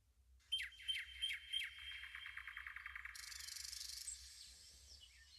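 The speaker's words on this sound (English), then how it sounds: "there's nightingales in here." Nightingales sing in a bright, rapid series of chirps and trills, with several sharp notes up front giving way to a continuous warbling chatter, clear but moderately distant, with no voices.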